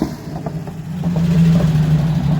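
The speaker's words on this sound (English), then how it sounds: "Classic Porsche." A classic Porsche engine runs at a steady idle, a close, fairly loud low hum with a throaty drone that swells slightly partway through, alone without talking.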